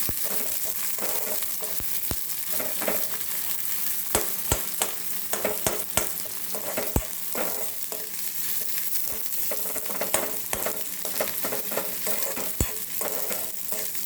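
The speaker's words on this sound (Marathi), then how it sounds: "कांदा छान लाल परतू द्यायचा." Onion sautéing in a pan until reddish-brown, for Maharashtrian-style smoky roasted eggplant bharit, gives a steady close sizzle broken by frequent sharp spoon taps and scrapes, with no talking.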